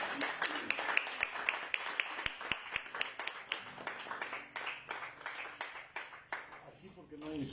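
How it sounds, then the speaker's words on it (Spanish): Congregation clapping loudly in a church during a Spanish-language Sunday communion service, a dense, sustained rhythmic applause filling the room with sharper claps standing out, and no one speaking over it. "Dale un fuerte aplauso al Señor."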